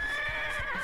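A horse neighs in the You Don't Know Jack video game, a single loud whinny lasting under a second over a steady musical background.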